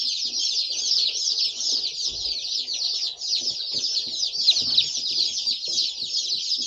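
Hatchery chicks in a shipping box, Austria Whites and Egyptian layers among them, chirping densely and continuously in high shrill peeps, close and loud, with faint handling noises underneath.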